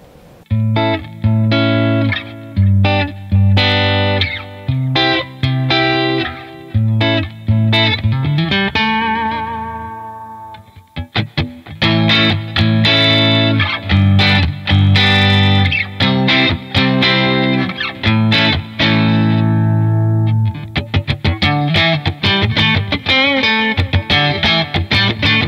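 Jazzmaster electric guitar on its Kinman Surfmaster neck pickup plays rhythmic chord strums and picked passages, loud and close, with a brief sustained ringing chord midway before the playing resumes.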